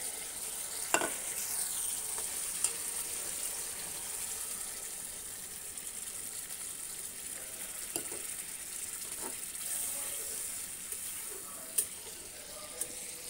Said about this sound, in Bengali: এবার আমি ডিমগুলো দিয়ে দেব আর দিয়ে দেবো সামান্য একটু জল